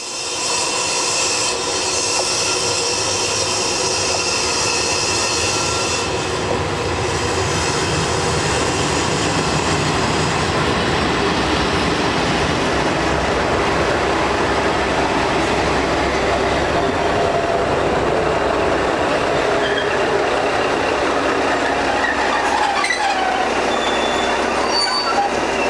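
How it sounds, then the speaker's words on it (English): Class 150 diesel multiple unit train passing through Heswall railway station, a loud continuous rumble and rush of wheels on rails with faint squeals, sustained throughout and close by. "passenger services are provided by Class 150 diesel multiple units"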